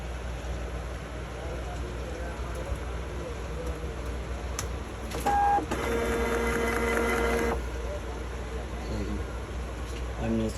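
Zebra GX420t thermal barcode label printer running a short print job, a faint mechanical whir in a quiet room rising briefly for a couple of seconds before settling back into low background hum.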